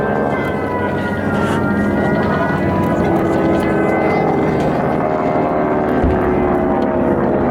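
An Aichi D3A dive bomber replica flies over the Reno Air Races during a Tora, Tora, Tora air show re-enactment. Its loud propeller engine drones steadily and close for the whole stretch, with a rich humming tone.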